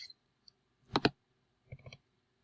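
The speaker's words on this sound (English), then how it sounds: "you'll come right down here and click Save" Computer mouse clicks sound in a quiet room as Save is chosen in Microsoft Word, a crisp double click followed by a softer pair of clicks, all close and faint.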